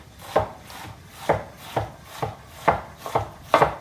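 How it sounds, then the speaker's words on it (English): A kitchen knife chops onions on a cutting board while making beef enchiladas: about eight crisp, close strikes land at an uneven, unhurried pace, with short gaps between them and no talking. "just run your knife through here"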